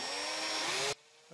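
A power drill bores into wood for a dowel on a mid-century modern printer cart build, a loud steady whine under load for nearly a second before stopping abruptly, leaving quiet.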